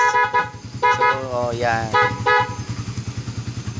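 Short, loud honks from the loud horn of a Honda XRM 125 Fi motorcycle fitted with a Honeywell switch, sounded about three times over a steady idling engine, with a brief spoken remark.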